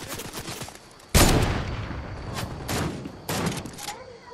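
Rapid bursts of gunfire in a Fortnite match, several loud volleys cracking out in clusters with short gaps, close and sharp, with a player's voice faintly underneath.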